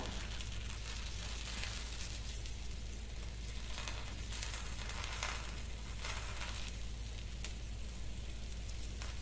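A puran poli flatbread roasting on a hot pan gives a continuous soft sizzle and crackle, steady and fairly quiet throughout with faint irregular pops.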